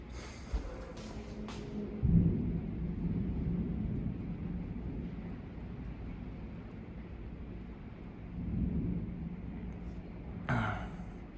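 After lightning strikes an apartment building during an intense spring thunderstorm, a deep, muffled thunder rumble rolls on. It swells sharply, eases, then surges again a few seconds later, with wind buffeting the microphone and a faint voice in the background.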